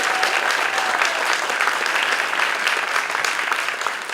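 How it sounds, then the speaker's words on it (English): Festival awards crowd gives a sustained, full round of clapping for panelists and speakers, loud and even throughout before tapering slightly at the end. "how about a round of applause for all the wonderful panelists and speakers who gave their time and energy"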